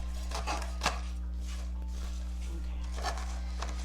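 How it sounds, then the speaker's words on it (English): A knife cuts through cooked bacon in a few short, crisp strokes against a board, with a steady low hum underneath. "So I'm gonna go through with my knife."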